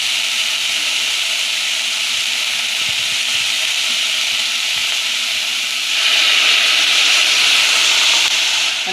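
Water poured onto Goan snake gourd cooking in a pan makes a loud, continuous steamy hiss that swells sharply partway through and then holds steady, with no talking.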